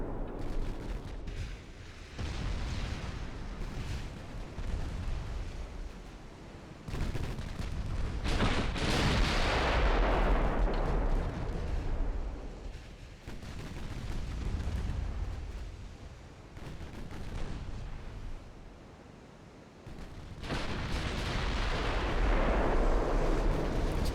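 Naval gunfire in the Ultimate Admiral Dreadnoughts naval battle game, with batteries of 6-inch guns on a warship firing heavy, rumbling booms that roll into one another across the whole stretch, with only brief lulls between salvos.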